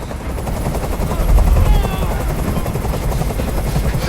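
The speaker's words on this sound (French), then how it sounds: "Je peux plus supporter ce bruit. Fais dégager cet hélicoptère, maintenant!" A helicopter hovering close by during a hostage scene in the video game Detroit: Become Human, its loud rhythmic rotor thump and engine roar filling the whole stretch without letup.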